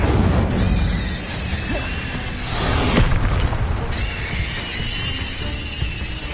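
The Incendio fire spell in Hogwarts Legacy, loud booming whooshes and blasts of flame repeating through the clip, with a dense rumbling burst near the middle and no talk.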